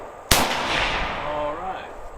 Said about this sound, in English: So first we test fired it with the polymer magazine that it initially came with.